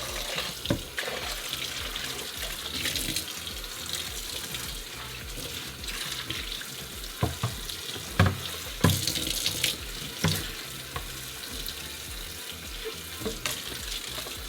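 Tap water runs steadily while a juicer part is rinsed in a sink, a continuous broadband wash with occasional louder splashes and clatters; no one speaks.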